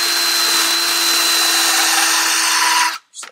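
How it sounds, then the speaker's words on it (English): A power drill grinds down a small metal tab on a Sierra Denali during a Fox shock install, a loud steady high whine that runs unbroken for about three seconds, then cuts off, followed by a brief fainter burst. "All right, so I'm drilling the edge of this off."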